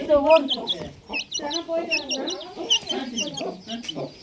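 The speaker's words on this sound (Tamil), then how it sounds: "இந்த கோழிக்கு இது கொத்திருமா" A chicken clucks repeatedly in short, agitated bursts close by, with scattered squawks throughout.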